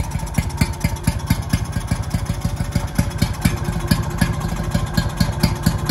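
A Villiers WX11 two-stroke engine, run on oil-heavy fuel, idles steadily with a rapid, even low thudding pulse and a mechanical rattle. It is close and fairly loud, with no talking.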